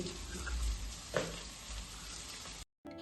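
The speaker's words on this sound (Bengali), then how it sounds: "পেঁয়াজ মোটামুটি ভাজা ভাজা হয়ে গেছে। এবার খানিকটা কাশ্মীরি শুকনো লঙ্কার গুঁড়ো, একটু হলুদের গুঁড়ো অ্যাড হলো।" Onions frying in a pan for a spicy chicken curry, with a steady close sizzle and one brief stir clatter, ending in a short silence and then a faint resumed sizzle.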